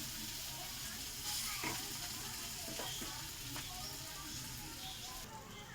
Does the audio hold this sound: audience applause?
no